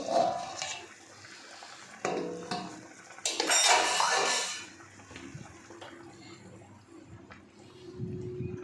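A lid comes off a pot of fish curry with metallic clinks and clatter, followed by a burst of bubbling and simmering, then quieter kitchen handling.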